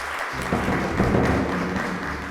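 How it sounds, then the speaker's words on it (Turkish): Applause calling a child forward on a children's show, a steady, moderately loud clapping from a small audience lasting the whole short stretch without talk. "ilk arkadaşım Mehmet'i alkışlarla çağırıyorum."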